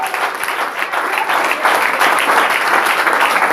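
A church congregation applauds during worship, loud continuous clapping mixed with crowd noise that swells slightly toward the end.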